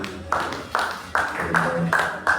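A church congregation at an overnight prayer service claps together in a steady rhythm, about one loud beat every half second, with voices sounding beneath.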